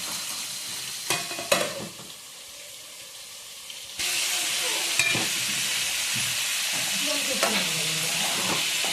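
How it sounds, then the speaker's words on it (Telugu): Chicken pieces tossed into a pan and stirred while frying, with a few quiet clinks at first, then a loud, steady sizzle that holds from midway on, broken by occasional stirring scrapes. "దూరగా వేగినాక చికెన్ వేసుకోవాలి ఇట్లా చికెన్ వేసుకున్నాక"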